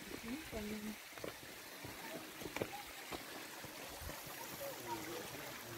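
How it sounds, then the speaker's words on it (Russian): A mountain stream on Tenerife trickles and burbles steadily over rocks, with faint talk in the background. "Вот еще один ручей у нас."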